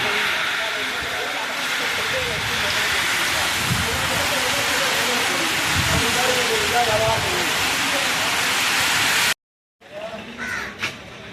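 A dense, steady stormy downpour roars for about nine seconds, with a crow cawing and faint voices underneath, then the sound cuts off abruptly.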